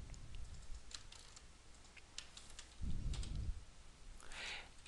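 A computer keyboard typing a service name into a .NET control setup, with light clicks in short runs and a brief louder burst of keystrokes near the end, fairly close and alone.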